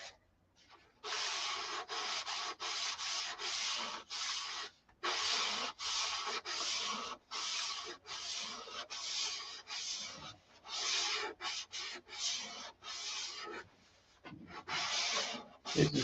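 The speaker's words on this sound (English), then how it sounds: "This is 400 grit sandpaper." Hand sanding with 400 grit sandpaper on a Viper model's ribs and finish, a close, raspy back-and-forth scrubbing in rhythmic strokes with short pauses between passes.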